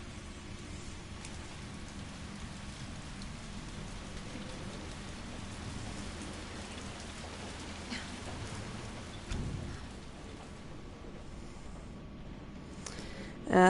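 A rainstorm in Resident Evil 3 hisses as a steady, even wash of falling rain with a faint low rumble underneath, holding constant with only a small swell near the end.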